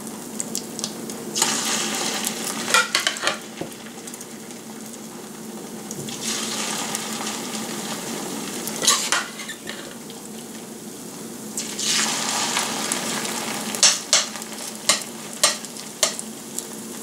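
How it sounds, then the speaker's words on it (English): Chicken and leek patties fry in a preheated pan over medium heat, the sizzle swelling and fading in waves, broken by sharp scraping clicks of a utensil against the pan. "we are going to fry them for about 2-3 minutes on both sides"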